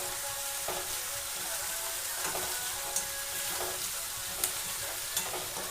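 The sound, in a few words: chutney ingredients warming in a pan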